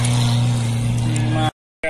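A Mahindra Thar climbs a slope with its engine revving hard, a loud sustained drone close by that cuts off abruptly near the end, with voices talking over it.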